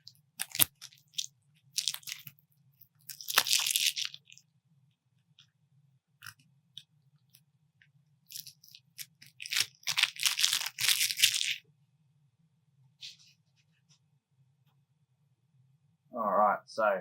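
Plastic wrapping peeled from a Universus My Hero Academia trading card pack: close, sharp crinkling bursts in a few separate clusters with quiet gaps between them, and a soft voice near the end.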